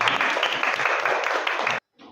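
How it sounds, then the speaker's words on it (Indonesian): An audience claps together in a classroom setting, giving a brisk burst of applause that cuts off abruptly, followed by a brief faint trailing sound. "tepuk tangan untuk kita semua"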